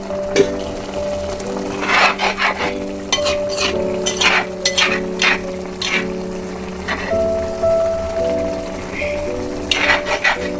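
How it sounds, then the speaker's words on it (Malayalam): A spoon scrapes and stirs through a bubbling pot of sardines in masala, a series of clattering strokes over a steady simmering hiss. "അപ്പോൾ ഇതൊന്ന് നമുക്ക് ഇളക്കി കൊടുക്കാം"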